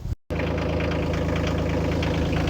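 Tractor engine idling steadily, a loud, close, even diesel-like rumble with a regular mechanical knock that runs on after a brief dropout at the very start.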